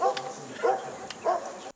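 A trained search-and-rescue dog gives three short, sharp barks spaced about half a second apart, fairly close and with no talking.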